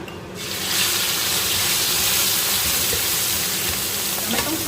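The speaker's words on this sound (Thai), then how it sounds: "ทีนี้เราจะนำส่วนผสมทั้งหมดลงไปผัดค่ะ ก่อนอื่นใส่น้ำมันลงไปก่อนนะคะ นี่เราก็จะนำเครื่องที่เราโขลกไว้นะคะ" Pounded tamarind chili paste hits hot oil in a pan over high heat, producing a loud, steady, close sizzle and hiss that swells within the first second and continues unbroken.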